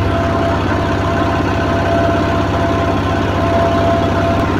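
A large generator chugs close by, a loud, steady engine drone with a throbbing low rumble and faint knocking texture that continues without a break.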